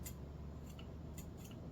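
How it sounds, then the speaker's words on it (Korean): Fabric shears snipping cloth along the smooth edge of the blade, heard as four brief, crisp cuts spaced across a quiet, low-level background. "맨들맨들한 쪽으로 천을 잘라보면 잘려요."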